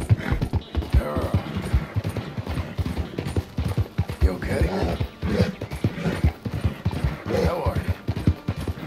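Horse hooves clip-clopping on the ground in the video game Red Dead Redemption 2, a steady, close, rhythmic walking gait that continues throughout, with someone speaking softly over it.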